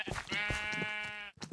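Sheep bleating in the Minecraft video game, a single long quavering bleat lasting about a second, fairly loud and clear, followed by a short fainter bleat.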